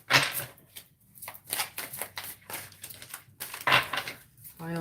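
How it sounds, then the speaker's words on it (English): Tarot cards are shuffled in quick, close papery bursts and slaps, interrupted by short moments of a voice talking nearby. "One more shuffle."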